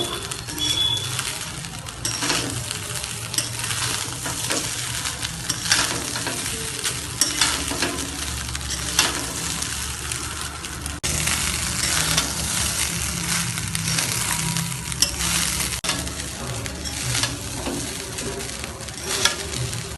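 Cooked rice being stir-fried for egg fried rice, a steady close sizzle with continuous scraping and tossing of a spatula in the pan throughout, with no voices.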